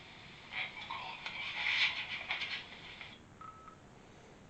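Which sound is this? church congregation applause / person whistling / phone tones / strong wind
phone tones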